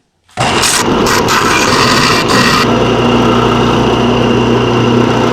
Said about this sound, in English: so let's do some sanding now